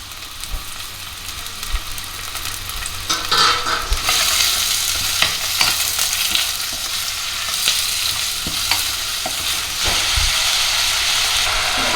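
Chopped onions frying in hot oil for a one-pot chicken curry, heard as a steady close sizzle and hiss, with scattered stirring scrapes and clacks joining in midway and no voices.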